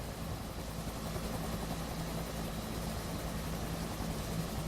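A Huey helicopter hovering in the DCS World flight simulator gives a steady, continuous rotor and turbine drone with a low throbbing hum, even in level and unbroken throughout, with no talking.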